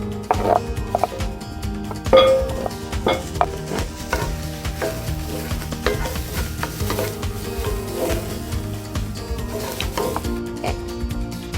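Celery pieces sizzle and crackle in melted butter in a pan for a Southern cornbread dressing, with steady frying hiss, occasional stirring clatter and utensil knocks throughout, no talking.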